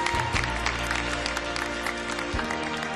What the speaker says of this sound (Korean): 다시 한번 여러분 축하의 박수를 부탁드리고요.